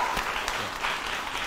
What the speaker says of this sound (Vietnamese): cho một tràng pháo tay để cổ vũ cho anh.